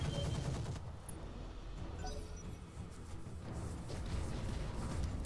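Faint, continuous rumbling barrage of gunfire and explosions from the Roguetech video game, a dense wash of shots running throughout without pause.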